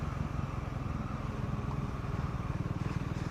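A Triumph Scrambler 400X motorcycle engine rumbles with a fast, pulsing low exhaust throb, steady and fairly close, with no voices.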